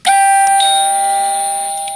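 A single bright electronic doorbell chime from a Playmobil toy house rings loudly and close, its tone sustaining and slowly fading over a couple of seconds.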